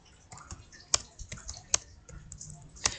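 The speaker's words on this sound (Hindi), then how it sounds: "जैसे मैंने कुछ नंबर टाइप किया" Numbers typed on a computer keyboard while working in an Excel spreadsheet, with soft irregular key clicks and a few sharper, louder taps, all fairly faint and close.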